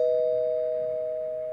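A doorbell rings once as a single clear electronic tone that sustains and slowly fades, alone with no voices, used as a sound effect in a children's reading of The Hobbit.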